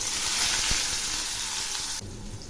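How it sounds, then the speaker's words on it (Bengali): Chopped onions and nigella seeds hitting hot oil for a Bengali fish curry, a loud bright sizzle that drops abruptly to a quieter crackle partway through. "এখন আমি ওই তেলে হাফ চামচ কালো জিরা ফোড়ন দিলাম, আর দিচ্ছি দুটো পেঁয়াজ কুচি"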